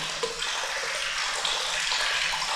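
Water pours steadily into a spring-fed farm reservoir, a continuous broadband rush and splash that holds at an even level throughout with no voices.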